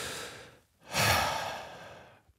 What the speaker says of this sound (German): nochmal Atemübung machen